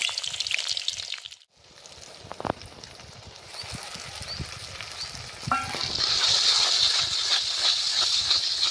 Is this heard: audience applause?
no